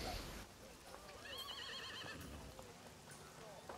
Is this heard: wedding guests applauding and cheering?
no